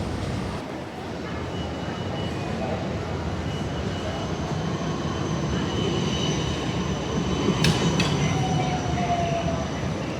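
Trams roll past in Melbourne's busy CBD corridor, giving a continuous dense rumble with faint high wheel squeals, heard amid city traffic noise.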